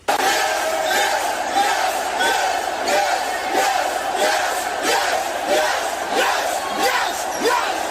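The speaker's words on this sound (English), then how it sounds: "This is fans walking into Raw the night after WrestleMania, cheering with the Yes chant." A large arena crowd of WWE fans roars and chants a pulsing, repeated rhythmic cry on Raw the night after WrestleMania, loud and continuous with no break.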